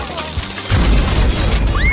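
Popcorn bursting out with a sudden loud bang during a food challenge, a sharp burst followed by dense, noisy crackling and rattling that continues to the end.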